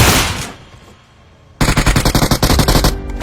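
Rapid bursts of M4 rifle fire in the BGMI battle royale game ring out loud and close in a dense automatic string after a brief fading shot and a quiet gap.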